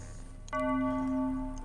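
A single bell rings out in the Maid of Sker video game, one clear metallic strike followed by a steady, sustained ringing tone heard alone over quiet background hum.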